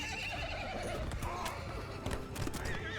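Horses neigh and whinny amid hoofbeats in a Mount & Blade II: Bannerlord battle, a dense, steady din of cavalry clashing with spear infantry, with several whinnies rising over the continuous clatter.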